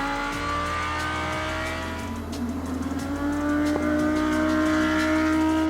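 Race car at speed on the track during WEC qualifying in São Paulo, a loud sustained engine howl with steady high harmonics, pitch shifting slightly mid-run, with no talking.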